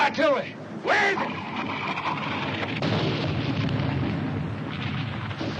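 Artillery shells burst in a wartime battle, with rumbling blasts, debris and shouting voices over a continuous roar of combat, two sharp explosions standing out near the start.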